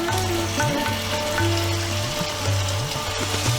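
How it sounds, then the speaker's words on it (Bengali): Fried mutton is tipped into a sugared masala, which sizzles steadily and loudly up close. Stirring clatters on and off, and a low, repeating tonal hum runs underneath. "এবারে আমি এই ভাজা মাটনটা দিয়ে দিচ্ছি"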